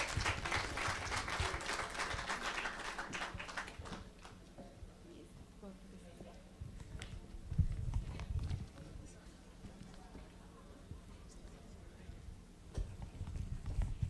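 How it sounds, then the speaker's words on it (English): Scattered clapping from a panel discussion audience rises at the start and then thins into sparse claps, with a voice speaking over the background. "A big applause for them as well"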